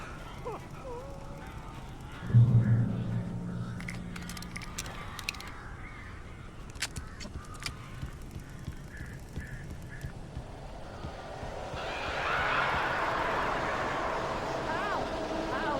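Birds caw and flap in Alan Wake Remastered inside a room with a blocked chimney, brief harsh calls and bursts of noise scattered through, with people speaking over them and a rising wash of noise toward the end.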